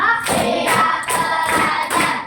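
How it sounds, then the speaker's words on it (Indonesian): Children and a teacher in a classroom clap their hands rhythmically in the 'tepuk konsentrasi' clapping game, with sharp, loud bursts of group claps repeating in a steady counting pattern. "kita tepuk konsentrasi dulu. Tepuk 1, tepuk 2, tepuk 3, tepuk 4, tepuk 5"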